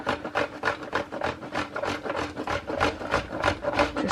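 A block of soap is grated in quick, rhythmic rasping strokes, about three per second, scraping steadily and fairly close with no talk.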